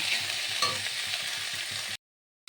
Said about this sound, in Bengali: ক্যাপসিকাম আর টমেটো। ভালো করে কষে নেব।